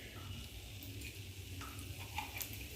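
Lentil dumplings (bori) frying gently in oil in a pan over low heat, a soft, steady sizzle with faint crackles, quiet and continuous with no talking.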